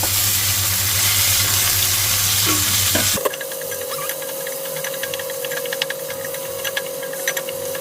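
Ginger hits a hot pan already holding onion, for pampano fish with pechay, and sets off a loud, close, hissing sizzle. After about three seconds it settles to a quieter, steady frying crackle with a faint tone underneath. No one speaks.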